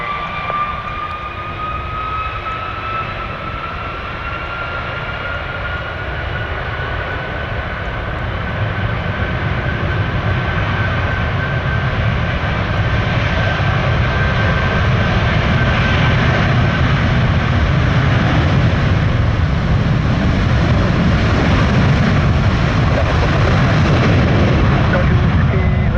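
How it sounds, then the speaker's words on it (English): Heavy Airbus A330 jet touching down at an airport, a loud continuous engine roar with a whining tonal layer that swells and builds toward the end, steady and sustained, with faint voices mixed in. "heavy Airbus 330, just touchdown."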